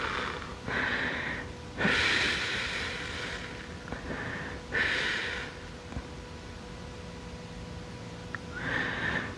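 Slow, deep breaths while resting in a Pilates side stretch, each inhale and exhale swelling and fading in a calm rhythm, close and soft, with no talking.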